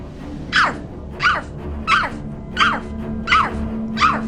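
A voice imitating a big dog's bark, six evenly spaced woofs delivered loud and close in a steady rhythm, with nothing else heard between them.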